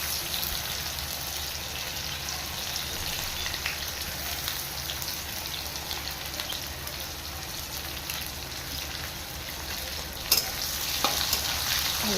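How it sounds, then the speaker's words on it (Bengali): Two chopped onions fry steadily in a pan for ghugni, giving a constant close sizzle with a brief clatter of stirring partway through. "ভালো করে পেঁয়াজগুলো ভেজে নেব।"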